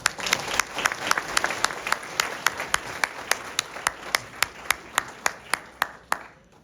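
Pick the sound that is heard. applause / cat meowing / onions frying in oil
applause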